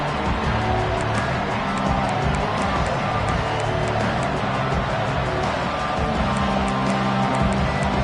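A college football video game plays the dense, continuous roar of a stadium crowd, loud and unbroken throughout, with a faint murmur of voices mixed in.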